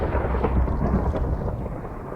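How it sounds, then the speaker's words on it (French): A deep thunder rumble with rain-like crackle rolls out briefly when an electric sword calls down lightning in Minecraft with the IceAndFire mod, heard alone without talk. "je pense qu'on devrait entendre les éclairs maintenant"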